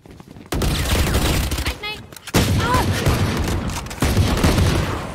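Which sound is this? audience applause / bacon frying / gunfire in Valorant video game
gunfire in Valorant video game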